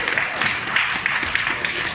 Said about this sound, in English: Give this a round of applause!